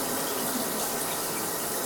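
Water from a running shower pools and backs up over a badly plugged shower drain in a house, a loud, steady, close hiss of spraying and splashing water with no talk.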